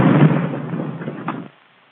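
A 1943-era M1 bazooka rocket launcher fires with a single heavy blast and rushing backblast that fades over about a second and a half, then cuts off, heard fairly close with no talking.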